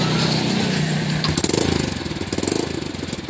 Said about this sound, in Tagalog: okay na po yung andar ng kanyang makina